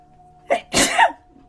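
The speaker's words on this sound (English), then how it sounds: "I don't know why I'm sneezing" A single loud sneeze up close, a short sharp inhale followed by a forceful burst, from a person who is not sick and blames allergies.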